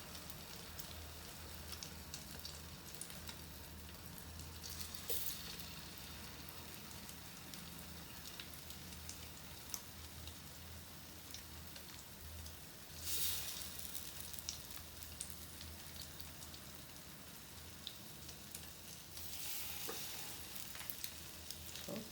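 Egg-dipped bread frying for French toast in about three teaspoons of oil in a pan, a soft continuous rain-like sizzle held low and steady with brief brighter surges, no talk.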